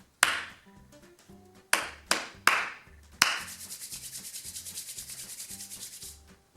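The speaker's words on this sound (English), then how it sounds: "Let me clap one more time." Hands clap a rhythm: several sharp, separate claps come first, then a quick, even run of softer claps. The sound is close and fairly quiet, with no talking.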